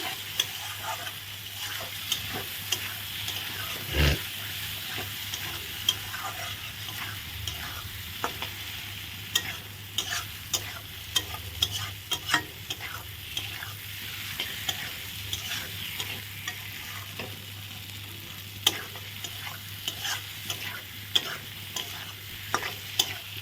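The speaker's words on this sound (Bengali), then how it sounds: "আলুগুলো দিয়ে ভালো করে নাড়াচাড়া করে নিলাম" Potatoes stirred as they fry in a pan of spices for a vegetarian dish, a steady close sizzle broken by frequent scraping and clacking of the spoon against the pan, going on continuously without any voice.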